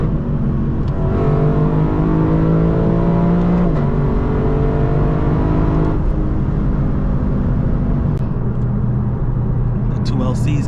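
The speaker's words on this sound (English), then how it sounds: "The 2 LCs coming up on my left right now." Lexus LC 500 coupes, one orange and one dark blue, drive along a highway, their engines a steady close droning hum that shifts pitch, with someone talking over it.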